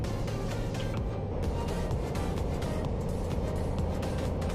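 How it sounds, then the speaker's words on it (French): A car drives past in Euro Truck Simulator 2, a steady broadband road and engine rumble that stays loud and even throughout, with no talk over it. "Une voiture qui vient là."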